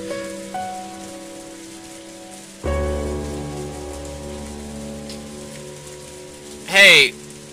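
Rain falls steadily throughout the Umineko When They Cry scene as a soft continuous hiss beneath layered music and tones, with a brief louder burst near the end.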